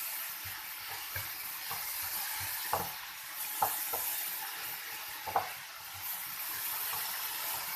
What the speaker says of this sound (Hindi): ग्रीन पार्ट डालकर हमने इसको किया अच्छे से मिक्स।